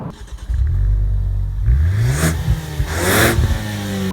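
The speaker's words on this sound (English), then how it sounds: "doesn't sound too bad either, this 2-litre engine" Heard from outside, a Ford Focus ST's 2-litre engine idles and is then blipped in a couple of sharp revs that climb and fall, close and loud.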